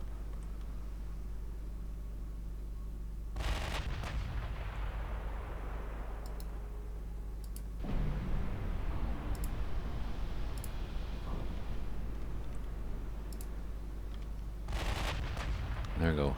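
Battleship guns firing in the naval warfare game Ultimate Admiral Dreadnoughts: a few heavy salvos several seconds apart, each a loud crack with a long rumbling tail over a steady low engine drone.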